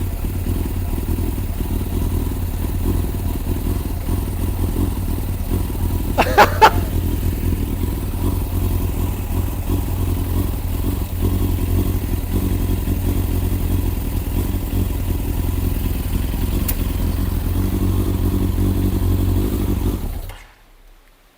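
A Suzuki RF900R motorcycle engine runs steadily at close range after the choke is released, a low continuous rumble with a brief rattle partway through, before cutting off abruptly near the end.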